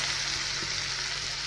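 Fish frying in oil alongside brinjal, potato, onion and green chilli, giving a steady, dense sizzle that holds evenly throughout, close and moderately loud with no voices.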